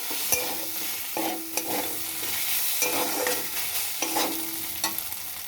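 Potatoes and rice are stir-fried in a hot pan for a cauliflower dish, with a soft steady sizzle under repeated scraping stirs of a spoon, close by and with no talk.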